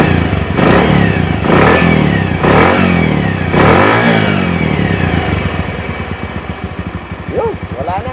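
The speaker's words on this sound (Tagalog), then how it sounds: "Rev natin mga pre." A Bajaj CT 100 motorcycle, just fitted with a new 6003 stator bearing, revs up several times close by, loud rising and falling engine pulses before settling toward idle, with someone speaking briefly.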